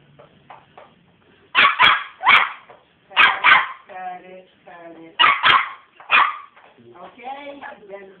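A Chihuahua gives several sharp, high yappy barks in quick pairs, with a person talking in between.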